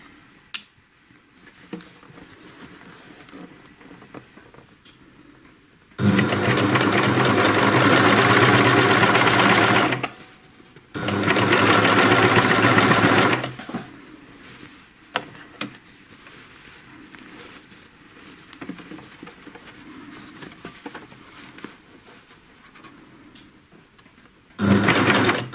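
Sewing machine stitching an outer-curve binding onto a pair of shorts, running in two loud, steady bursts of about four and three seconds separated by a short pause, with quiet handling noise before and after.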